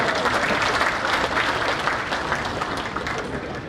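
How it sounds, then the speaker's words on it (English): An audience at the Startup20 Sikkim Sabha inauguration in Chintan Bhawan gives a loud, sustained round of applause, dense clapping that stays strong before easing slightly toward the end. "give them a big round of"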